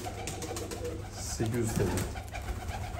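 New-breed pigeons, Malatya and Kerkük types, coo in a loft, soft throaty calls rising in the middle while someone speaks over them.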